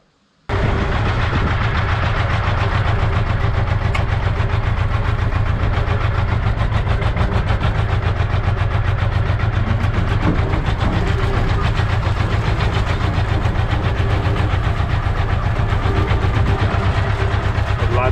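Ursus C-330 tractor engine running while driving to spread fertilizer on a meadow, a loud, steady, close diesel drone that continues without a break for the whole stretch.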